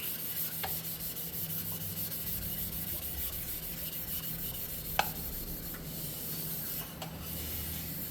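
A cylinder head surface on a 2009-2015 Toyota Prius being scrubbed by hand with a stone and transmission fluid, making a steady close rasping rub with a few sharp ticks scattered through it.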